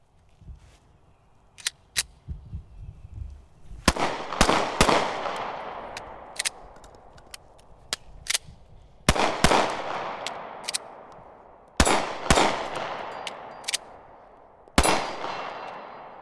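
Taurus GX2 pistol fires at an outdoor range, a series of sharp, loud cracks in irregular bursts with ringing echoes trailing off between shots, no speech.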